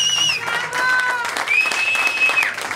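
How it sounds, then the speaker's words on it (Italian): Applause for the guitarists at a live tribute concert, a dense wash of clapping from the crowd with whistles and cheers rising over it, loud and sustained throughout. "applauso mirato ai chitarristi di questa sera"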